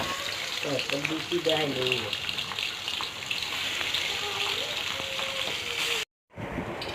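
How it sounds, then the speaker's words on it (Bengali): Pabda fish frying in oil in a wok, marked with turmeric, salt and chili powder, gives a constant hissing sizzle that cuts out abruptly near the end before resuming. "কড়াইতে তেল দিয়ে মাছগুলো ভালো করে লাল লাল করে ভেজে নামিয়ে নেব"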